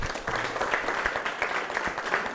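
Audience clapping steadily for a woman on a Kenyan talk show panel, a dense, even patter of many hands that fills the whole moment without any talk.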